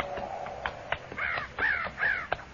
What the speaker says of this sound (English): Those crows ain't flying.